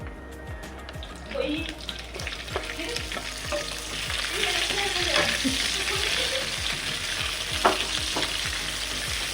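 Garlic frying in a pan while chilli potato is being cooked, a steady broadband sizzle with stirring clatter and scrapes running throughout, close and moderately loud, without speech.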